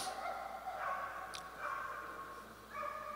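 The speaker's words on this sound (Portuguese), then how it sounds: "Louvado seja Deus que eles estão latindo porque estão brincando, porque estão ali." Several dogs barking outside while they play, a few short barks and yips at moderate distance scattered over a steady background, with no talking.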